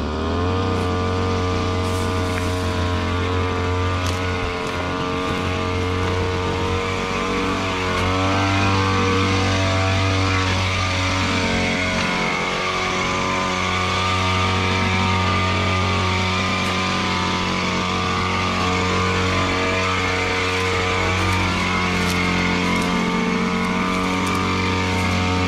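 A KOSHIN EP-10P engine-powered sprayer running close by, its small engine humming steadily with a strong harmonic drone and a slight pitch shift partway through, continuing unbroken for the whole stretch.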